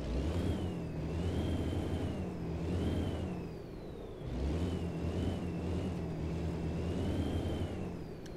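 A Kenworth W900 truck engine in American Truck Simulator revs up twice in succession, each rise a droning, whining climb with a turbo-like whistle, steady and close with no talk.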